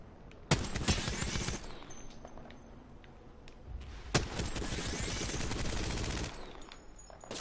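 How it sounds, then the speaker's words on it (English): Enemy gunfire in Apex Legends: two long sustained volleys of rapid automatic fire, loud and fairly close, separated by a quieter gap, with no talking. "The enemies are shooting at me."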